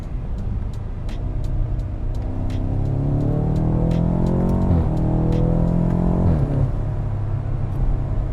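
A 2018 BMW M5 engine in sport mode revs steadily while driving, its tone climbing through the gears and briefly dipping twice as it downshifts, a smooth continuous rumble with no talk.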